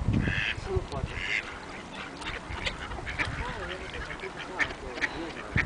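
Ducks and other water birds being fed at Siófok harbour in winter, with repeated quacks and honks from a flock close by, mixed with chatter and voices talking over the birds throughout.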